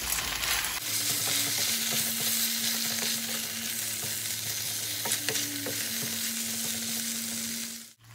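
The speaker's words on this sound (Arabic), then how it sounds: "نشوحهم مع بعض." Shrimp seasoned with salt, paprika and black pepper frying in a hot pan, a loud continuous sizzle with scattered ticks of stirring over a low steady hum, close up, running for several seconds before cutting off abruptly, no voices.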